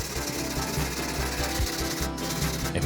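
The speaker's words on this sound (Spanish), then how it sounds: "Esmerilamos un poquito el excedente" Grinding off excess solder on a handmade jewelry tube clasp: a steady, close, rasping abrasive whir of a small rotary tool against metal, continuous and fairly even, with no talk.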